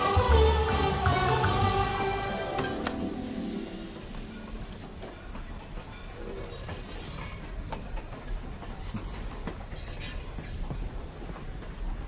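A passing train in a Bollywood film, its heavy rumble and clattering wheels steady throughout, mixed with some music at the start and easing slightly as it continues.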